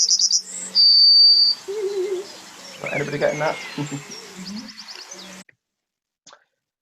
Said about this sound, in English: Farmland birds are struggling, and yet you can walk and you get this cacophony of amazing sounds just round the corner.